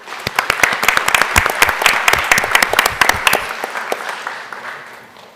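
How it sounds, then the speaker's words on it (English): An audience at a school board meeting gives a round of applause for a school choir, dense sharp claps rising quickly, holding steady, then thinning out and fading to quiet after about three and a half seconds. "let's give them a round of applause because they were excellent"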